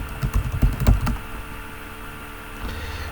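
Typing login credentials on a computer keyboard, a quick burst of close keystrokes over the first second that then stops, leaving a quiet room hum.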